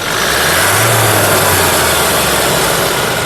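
A 2018 Toyota Innova Crysta 2.4 G engine revs loudly close by, a continuous heavy roar that swells slightly as the throttle opens.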